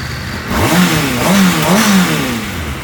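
A 2019 Kawasaki ZX6R sport bike on its stock exhaust revs in three or four quick blips over a steady idle, close and moderately loud.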